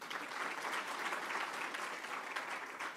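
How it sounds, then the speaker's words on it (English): An audience at a university founders lecture gala dinner claps warmly for an alumnus, a sustained wash of many hands at moderate volume with no speech over it. "And I think he deserves a round of applause."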